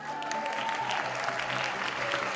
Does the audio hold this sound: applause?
yes